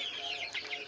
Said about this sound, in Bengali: আপনাদের এখানে যে মুরগিগুলো রয়েছে